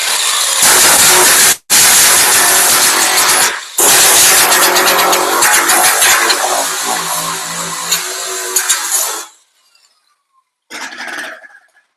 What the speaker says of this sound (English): now I get my grinder once more. Do a little bit of grinding